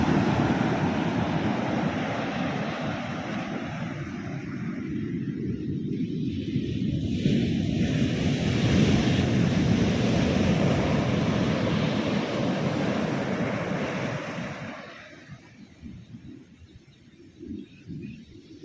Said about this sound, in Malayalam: ഈ ഭാഗത്ത് കടൽ അല്പം നന്നായിട്ട് കയറി വരുന്നുണ്ട്